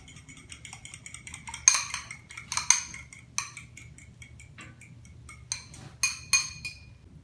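Utensils clinking against a pot or bowl while eggs are quickly mixed into hot pasta for a gluten-free, dairy-free carbonara, giving bright, irregular metallic taps and scrapes close by.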